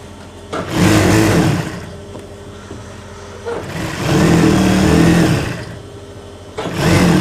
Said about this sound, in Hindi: हम इस मार्किंग के ऊपर साइड सिलाई लगाकर साइड निकालेंगे।